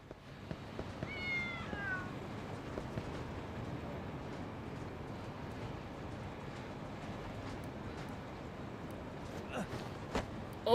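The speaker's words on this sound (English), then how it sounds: "Kitty cat." A cat meows in the video game Lost Judgment, a short rising-and-falling meow early on over a constant rumbling background of ambient noise and faint clatter, with a few sharp clicks near the end.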